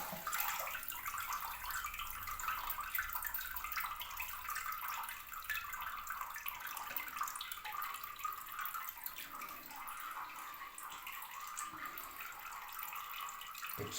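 A toilet cistern fills slowly through a newly connected supply, a continuous faint hiss of running water with light splashing that holds steady for about fourteen seconds, with no voices.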